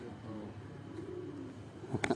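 Pigeons cooing on a rooftop in Amra Kalan Dinga, soft low coos rolling under faint outdoor noise, with a few brighter clicks near the end; fairly distant and quiet.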